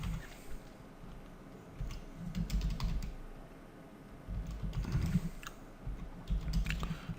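Keys clatter in quick irregular bursts as code is typed on a computer keyboard, close and fairly quiet, with short pauses between runs.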